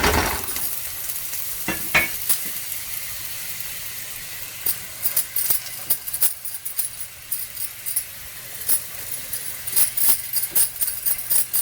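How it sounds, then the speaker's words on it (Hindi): An aloo bathua paratha cooks in ghee on a griddle with a steady close sizzle, while irregular scraping and tapping of a spatula break in through the second half; no one speaks. "अब हम इसको सिकने देंगे। पहले यहाँ मैं घी लगा रही हूँ।"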